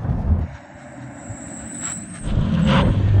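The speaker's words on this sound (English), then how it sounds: "Now I'm going to do a brake test from 60 miles an hour, 100 kilometers an hour, then a full emergency stop." A Bugatti Chiron Pur Sport makes a full emergency stop from 100 km/h, with a steady roar of road and tyre noise and a thin high squeal rising midway before the rumble swells again near the end.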